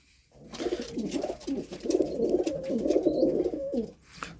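Acrobatic tumbler pigeons, red males among them, coo in a steady run of low, rolling, throaty calls close by with no voices.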